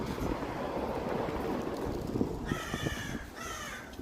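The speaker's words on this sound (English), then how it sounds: "It's a giant crow." A large crow gives two harsh, loud caws in a New Orleans Garden District cemetery, close by, over a steady wash of wind noise and ambient outdoor rumble.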